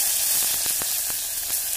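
Sliced onion sizzles in hot oil with bay leaves, a dense continuous hiss with a few soft stirring clicks, close and steady with no voices.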